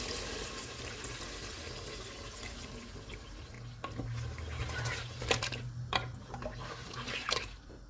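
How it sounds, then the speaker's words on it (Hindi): Two cups of water poured into mutton fried in oil for a Mughlai mutton korma, a steady watery splashing and trickling close by, with a few louder splashes toward the end. "इसमें 2 कप पानी डालेंगे।"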